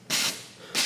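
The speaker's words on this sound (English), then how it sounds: "it does spray out of those 4 areas" An all-purpose steam cleaner fitted with a window tool sprays steam in two short, loud hissing bursts separated by a brief softer lull, close up with no talking.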